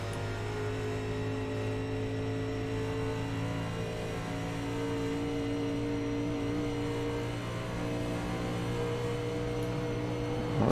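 A race car engine at a dirt-track stock car race holds a steady, high-revving drone around 6,000–7,000 RPM, with a continuous buzzing whine that swells slightly near the end, loud and alone.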